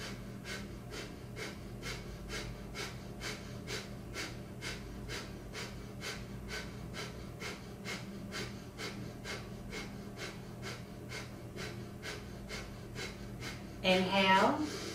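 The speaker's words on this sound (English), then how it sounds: "if breath of fire is not in your practice today, you will take long, slow, deep breathing" Long, slow, deep breathing during a kundalini wake-up kriya, heard as steady, evenly spaced breaths under a soft, continuous background bed, with a sharper breath near the end.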